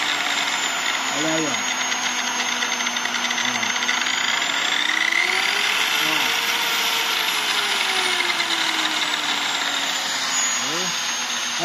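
A homemade sander built from a car polisher runs with a steady, close electric whine that rises and falls slightly in pitch as its speed is adjusted, while someone talks briefly over it.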